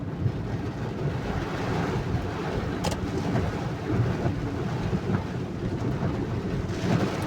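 Heavy rain roars in a dense, continuous wash over Delčevo, North Macedonia, with low rumbling and gusty wind noise on the microphone, no voices.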